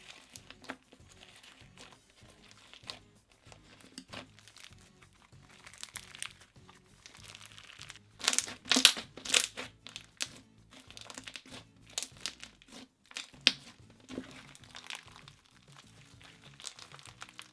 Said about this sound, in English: it makes the slime super crunchy and nice.